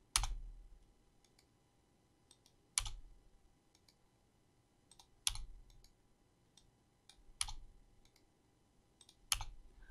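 Mouse clicks during Photoshop 2021 group duplication: five sharp click bursts spaced about two and a half seconds apart, each followed by faint smaller clicks, close and clear over a quiet background with no talk.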